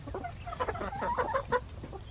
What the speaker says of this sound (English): This is one of the bantam roosters.